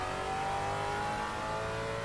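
A race car on a circuit powers out of the final corner under hard acceleration, its engine a loud, steady, continuous roar with no pauses.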